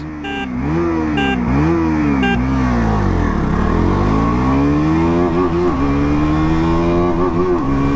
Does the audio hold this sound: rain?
no